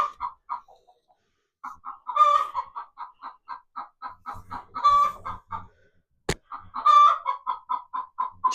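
A talkative hen clucking close by in quick rhythmic runs of short notes, rising into louder drawn-out cackles, with a sharp knock partway through.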